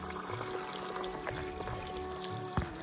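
Water trickles from a small mountain seep into bottles along the Rudranath trek, making a steady soft splashing flow with occasional drips and one brief clunk near the end.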